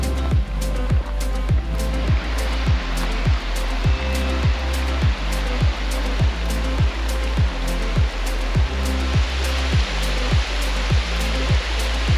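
Waterfall near Logan Pass in Glacier National Park: a steady, loud rush of falling water fills the scene throughout, with a repeating low thumping pulse underneath, likely wind buffeting the microphone.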